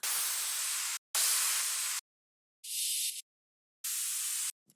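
Bursts of bright, hissing noise sweep in separate blocks with short silent gaps between them, like filtered white-noise effects, loud and upfront.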